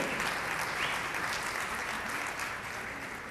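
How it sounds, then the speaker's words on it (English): A crowd at an evening museum event at D'Amico's applauds its sponsors, dense, steady clapping from many hands filling the room and easing off slightly at the end. "please, an applause for our sponsors"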